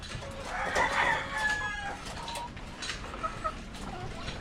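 Chickens from a first batch kept in a coop make scattered clucks and short calls, with a brief crow-like note early on. The sound is moderately near against faint background noise, and no one speaks.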